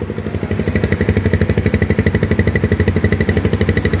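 A Rusi motorcycle engine runs steadily at a dealer branch, its rapid, even firing pulses chugging loud and close for the whole stretch with no talk over it.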